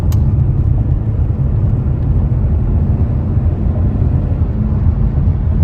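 A Ford Mustang engine drones with a loud, steady low rumble and road noise as the car drives on a rough, poorly paved road, heard from inside the cabin with no clear rise in revs.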